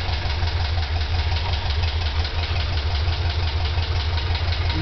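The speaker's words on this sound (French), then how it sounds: "Alors la voiture a chauffé un peu, je vais la démarrer." Matra Bagheera engine idling steadily after warm-up, a loud continuous low rumble with even pulsing and no voices throughout.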